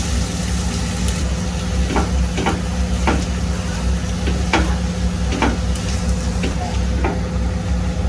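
Potatoes tipped into a pan of lightly fried onions for a dosa filling, giving a steady hiss under a low continuous hum, with a few soft scraping knocks of stirring spaced through it.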